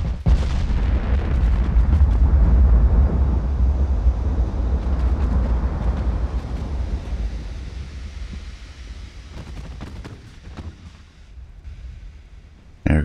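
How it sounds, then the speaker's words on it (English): Torpedoes launch from a cruiser in the naval warfare game Ultimate Admiral: Dreadnoughts, heard as a loud, sustained rumbling boom with sharp blasts that slowly fades over several seconds, then a sudden burst at the end. "There goes the torpedoes from the cruiser"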